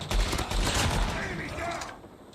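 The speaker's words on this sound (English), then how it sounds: "Reloading!" A gun reloaded in the mobile shooter game Call of Duty Mobile, a short burst of metallic mechanical clacks over dense gunfire and game noise, loud and busy.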